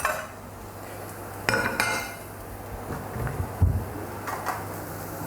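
A plate and utensils clink and clatter in a kitchen as fried food is lifted out, with a few sharp metallic taps and knocks over a low steady background hum.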